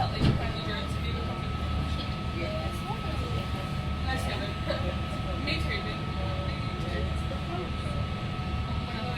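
NIR 3023 train departing Great Victoria Street Station for Bangor, heard from on board as a steady low rumble with a faint whine and occasional clunks, a voice speaking over it.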